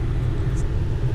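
A truck with a faulty alternator idles steadily nearby, giving a low continuous rumble that stays even throughout.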